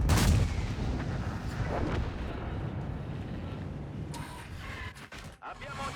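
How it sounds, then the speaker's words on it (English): Heavy artillery barrage in World of Tanks: a loud booming impact at the start, then sustained low rumbling and scattered blasts, with a voice talking over parts of it and a sharp crack near the end. "Artillery already on me"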